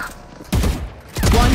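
Gunfire in the first-person shooter Valorant: two loud, close bursts of rapid shots, each about half a second long, separated by a short pause, no talk.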